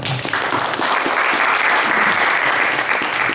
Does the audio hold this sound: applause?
yes